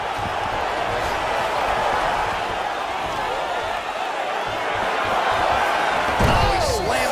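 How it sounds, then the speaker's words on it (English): Fighter slammed to the ground in the EA Sports UFC 3 game, a heavy impact thud under constant arena crowd roar and commentary, with a louder thump near the end. "he slams him to the ground"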